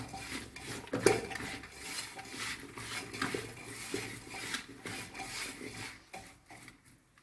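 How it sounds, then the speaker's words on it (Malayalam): Sardines being rubbed by hand with coconut oil in a metal pan or bowl, giving close scraping, squishing and rubbing noises with a sharp clink near the start, continuous and fading toward the end. "രണ്ട് ടീസ്പൂൺ വെളിച്ചെണ്ണ ഒഴിച്ചു കൊടുക്കാട്ടോ എന്നിട്ട് നമുക്ക് നല്ലോണം ഒന്ന് തിരുമ്പി കൊടുക്കട്ടോ"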